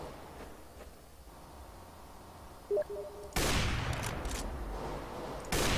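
Gunfire in the game CS:GO, a burst of loud shots kicking in midway and continuing for a couple of seconds, with another shot near the end, over a dim background hum.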